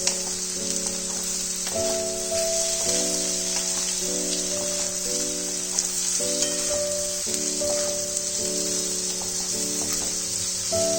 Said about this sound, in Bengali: বেগুনটা কিছুটা ফ্রাই হয়ে গেছে, এবার আমি এর মধ্যে লঙ্কাগুলো যেগুলো চিড়ে দিয়েছিলাম ওগুলো দিয়ে দেবো।